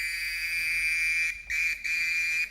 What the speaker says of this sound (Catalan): Lozano, fes-me un xiulet, a veure què passa